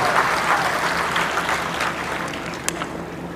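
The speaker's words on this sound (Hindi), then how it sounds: "जोरदार तालियों से स्वागत और अभिनंदन करें।" Loud, steady applause from a seated crowd at an election political rally in Ladnun, India, continuous clapping throughout with a single sharp clap near the end.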